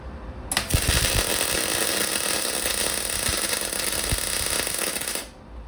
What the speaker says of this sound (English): It's welding.